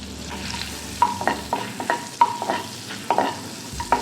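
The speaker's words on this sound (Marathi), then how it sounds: "आता आपलं बटर गरम झालेलं आहे, आता आपण त्याच्यात आलं लसूण टाकून घेऊया" Ginger and garlic go into hot butter in a pot for corn soup, with sharp utensil clicks and scrapes over a soft sizzle, close and without speech.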